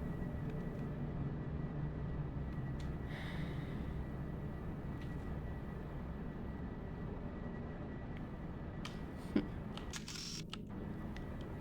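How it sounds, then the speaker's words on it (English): A truck engine in Hitman 2: Silent Assassin (2002) gives a steady, unbroken low rumble that holds at an even level throughout, with a few faint clicks near the end and no voices. "I also hear the truck"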